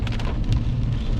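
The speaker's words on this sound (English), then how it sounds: "Just driving through the rainy country." Rain drums steadily on a vehicle while it drives a 30-mile-per-hour country back road, a close, continuous patter over a low road rumble.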